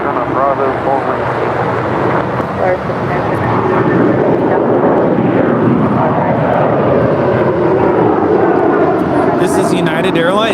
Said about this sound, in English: This is United Airlines Flight 1224 departing to Honolulu. It's a 20-year-old Boeing 757-300.